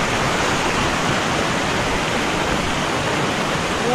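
Cayulo Falls pours in a steady, loud roar of rushing water, a constant broadband wash close by with no break and no voices.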